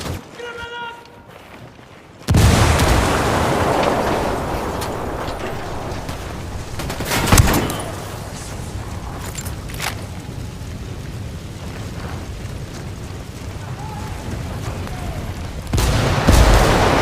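A frag grenade blast booms loudly in Ghost Recon Wildlands, followed by sustained gunfire with sharp individual shots and crackling volleys over a dense battle background.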